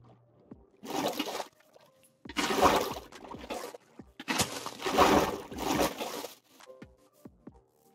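Water from a bucket being placed in the video game Minecraft: several splashy, rushing bursts of liquid, each about a second long, separated by short quiet gaps and heard fairly close with no voices.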